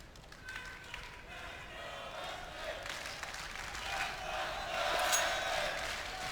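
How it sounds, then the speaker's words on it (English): An esports arena crowd cheers at a Counter-Strike major quarter-final between SK and Fnatic at ELeague Boston 2018. A steady, distant roar swells toward the end beneath a commentator's voice. "SK getting a lift from the crowd"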